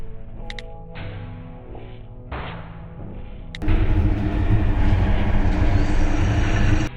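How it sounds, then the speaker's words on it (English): In a horror video game, a train approaches on a railroad track toward a car stalled across it, starting with scattered clanks and beeps, then a sudden loud, sustained roar of rolling rail noise. "Oh, look at that. The train is en route."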